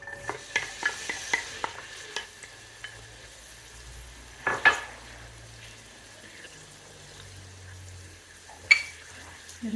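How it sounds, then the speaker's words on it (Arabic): Onion and leek frying in olive oil in a pot for a Moroccan vegetable and meat soup, a steady close sizzle broken by repeated stirring clatters and a couple of louder scrapes, with no voices. "واحد الكميه ديال زيت الزيتون، غادي نضيف البصله مع بورو"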